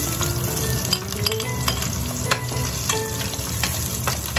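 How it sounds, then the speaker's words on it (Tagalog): Onions hit hot oil in a pan and fry with a loud, dense, continuous sizzle, while a spatula stirs them with scraping strokes and a few light metallic clinks. No speech is heard. "Since mainit na yan, mag-gisa na tayo ng sibuyas."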